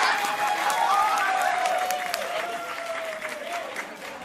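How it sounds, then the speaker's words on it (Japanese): Audience applause at a single-release idol event in a shopping plaza, a dense steady clapping from a crowd that slowly fades, with a voice speaking over it. "大きな拍手お願いします"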